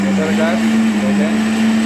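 A Silver Crest blender running while making juice, a steady close motor whine with a constant low hum, loud and unbroken for the whole moment.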